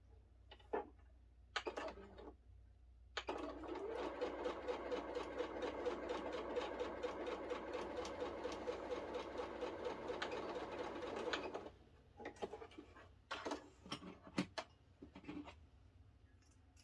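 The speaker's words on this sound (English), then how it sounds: "we're just going to sew from the inside corner down to the outside corner" A sewing machine stitches a quilt block strip from the inside corner to the outside corner, running steadily for about eight seconds on its own, with scattered clicks and handling noises before and after.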